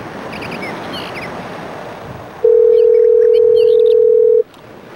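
Telephone dial tone, a loud, steady single-pitch tone lasting about two seconds over a windy, surf-like background hiss before cutting off.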